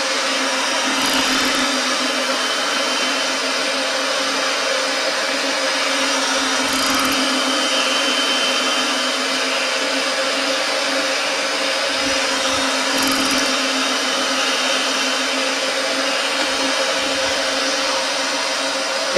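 A Ridgid 975 roll groover mounted on a Ridgid 300 Compact power drive grooves a rotating steel pipe, giving a steady, loud motor hum and whine that runs continuously with no talk.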